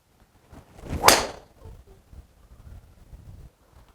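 A Titleist TSi1 driver strikes a golf ball outdoors with one sharp, loud whoosh-crack, then brief quieter rustling and faint wind.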